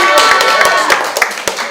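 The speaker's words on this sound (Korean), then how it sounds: "박수 한번 주십시오" Short burst of applause from a small group at a Korean election office opening event, a quick cluster of sharp hand claps, close and fairly loud, fading out within two seconds.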